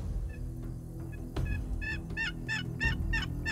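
Wild turkey calls out in mountain country at dawn, a run of clear, fairly distant repeated notes building in rhythm over a steady low background hum.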